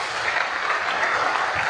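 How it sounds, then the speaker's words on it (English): Steady, dense clapping from a crowd at a live basketball league event, sustained at an even level for a couple of seconds with no voices over it. "Let's give them a round of applause, please."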